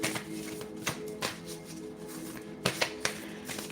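Tarot cards being shuffled at low volume, a series of soft riffling bursts and taps against a surface, irregularly spaced, with a slightly louder cluster near the end.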